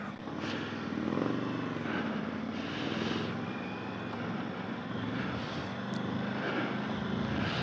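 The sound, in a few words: Indian Chief motorcycle, 116 engine with performance cams, pulling out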